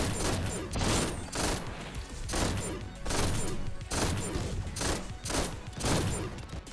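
Rapid-fire gunshots from a boosted weapon in the video game GTTOD (Get To The Orange Door), coming in dense, continuous bursts with short pauses between volleys, loud and close.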